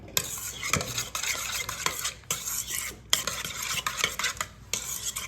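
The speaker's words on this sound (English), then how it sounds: "Let's stir it up and give it a look" A spoon stirs tzatziki in a bowl with brisk, close scraping and clinking strokes in an uneven rhythm, broken by brief pauses.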